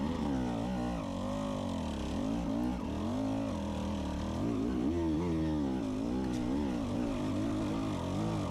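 Beta 200 RR two-stroke dirt bike lugging up a steep, slippery hill in second gear, a continuous wavering engine drone with pitch rising and falling, close and steady.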